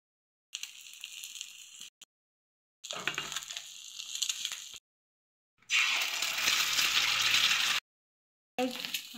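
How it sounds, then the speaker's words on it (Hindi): Eggs frying in a kadai on a gas stove, bursts of loud hissing sizzle separated by silent gaps, the longest and strongest burst near the end, with no talking. "हमारा अंडा फ्राई हो रहा है।"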